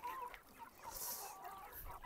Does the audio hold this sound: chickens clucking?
yes